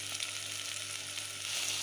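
Beans, carrot and cucumber sizzle steadily in a pan, a dense continuous frying hiss with faint stirring and no talk.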